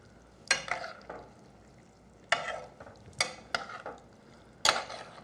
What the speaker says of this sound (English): Stir this up real good